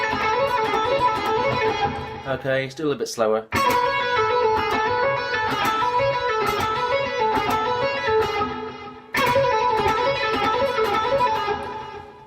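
Distorted electric guitar plays a fast rock lick pattern, dense repeating runs with a brief stuttering break midway, loud and close, with a short spoken remark from the player.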